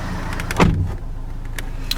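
A car door on a 2015 Toyota Avensis Luna opens with a single short, loud mechanical clunk partway through, then a steady, quiet cabin hum carries on with no talking.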